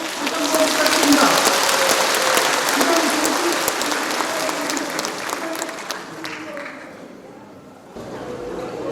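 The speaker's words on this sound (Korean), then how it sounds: "감사의 큰 박수 한번 부탁드립니다" An audience in a lecture hall applauds a professor after a special lecture, a dense, loud burst of clapping that gradually thins and fades over several seconds.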